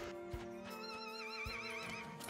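A horse in the video game The Ranch of Rivershine gives a long wavering whinny over a steady background music bed, with a few soft hoof clops scattered through.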